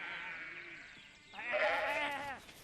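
Sheep bleat on a farm as they are rounded up into a pen. One quavering bleat rises over a steadier one behind it, both close and fairly faint.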